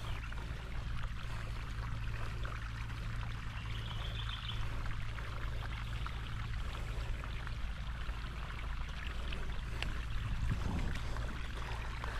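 Water runs steadily through a newly installed household pipe, a continuous close rushing flow with a constant low hum beneath it and no voices.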